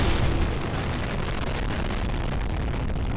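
A general purpose bomb detonates in the physics sandbox game People Playground, a loud, sustained roaring blast that fills the whole clip with rumbling debris and no voices.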